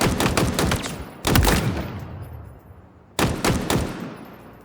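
Rapid automatic gunfire at targets in Halo Infinite, loud and close, in three bursts separated by short pauses, with each burst trailing into a fading echo.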